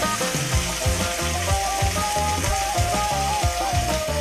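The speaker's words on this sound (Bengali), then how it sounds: "দিয়ে আমি মশলাটাকে ভালোভাবে কষাবো। মশলাটা যাতে পুড়ে না যায় আর ভালোভাবে ভাজা যায়" Spices, ginger-garlic paste and ground coriander frying in oil for a potato and soybean curry, a steady close sizzle running throughout with faint rhythmic scraping of stirring underneath.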